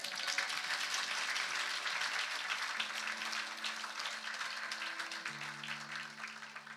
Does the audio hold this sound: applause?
yes